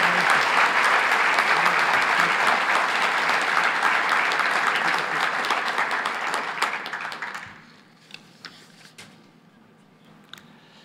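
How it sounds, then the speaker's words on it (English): An audience applauds the new fellows of the Academy of Science at a formal ceremony: dense, sustained clapping from a large crowd that holds steady, then thins out and fades to scattered claps near the end. "please applaud the new fellows of the Academy of Science"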